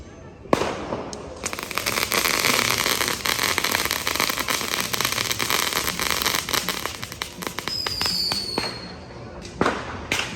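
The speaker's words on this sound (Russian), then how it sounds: "Тоже кидает какие-то шарики, они взрываются." Firecrackers crackle and pop in a dense, continuous barrage on a Barcelona street during Sant Joan night, with a sharp nearby bang at the start and another near the end, plus a faint whistling rocket.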